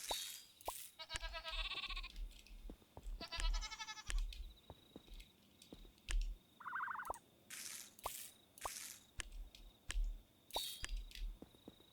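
Sheep in the video game Miniland Adventure bleat in short, bright cries, mixed with soft squishy plops and drips in a quiet farm scene.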